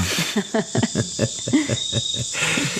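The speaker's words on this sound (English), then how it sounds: "There's birds and crickets and just like mosquitoes" A dense Amazon jungle chorus: a steady high insect drone of crickets under repeated bird calls, close and fairly loud.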